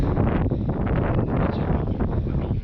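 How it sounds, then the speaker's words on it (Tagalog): Strong wind buffets the microphone during a bike ride along a river in Bulakan, a loud, continuous rumbling roar with no clear talk over it. "Medyo mahangin."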